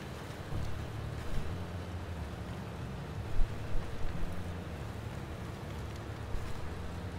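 Steady rain in the video game Snowrunner hisses and patters across the whole stretch, with a low rumble underneath and a few slightly louder gusts midway.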